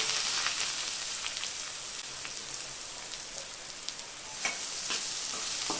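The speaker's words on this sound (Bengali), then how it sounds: "তেল তেলটা গরম হয়ে গিয়েছে দিয়ে দিব পেঁয়াজ কুচি" Chopped onions fry in hot oil for a Bengali tengra fish do pyaza, giving a steady, dense, rain-like sizzle close to the pan with a few light stirring clicks.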